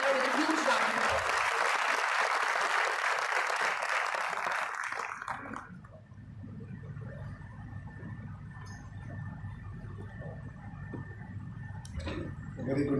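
Audience applause welcoming a keynote speaker at a conference hall, steady and fairly loud for about five seconds before fading out into room tone and faint ambient noise.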